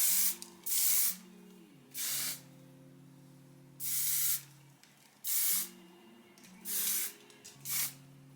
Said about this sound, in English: I'm going to first spray it with some hairspray.